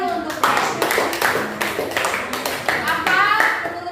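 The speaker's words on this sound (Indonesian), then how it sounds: "Tepuk tangan dulu untuk Den" Students in a school classroom clap together for a classmate, a steady burst of hand claps lasting a few seconds, close and fairly loud, with children's voices mixed in around the applause.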